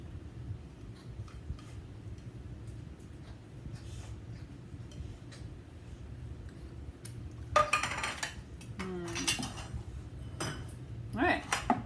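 Metal clinks and clatter in a home kitchen as canned tuna is drained, a few sharp bursts of can and utensil noise near the end over a low steady background hum.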